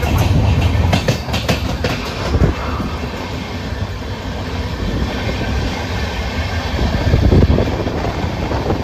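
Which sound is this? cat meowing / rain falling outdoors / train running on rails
train running on rails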